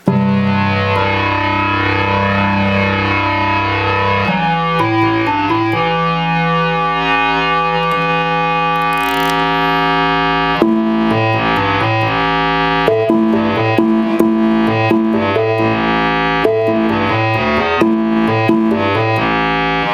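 A deep, buzzy organ tone with a square-wave, synth-like bass plays sustained chords, then shifts into punchy rhythmic bass notes, loud and upfront.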